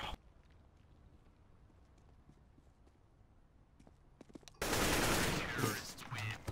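Rapid automatic gunfire in the video game CSGO bursts in loudly near the end, after quieter clicking and footstep-like taps.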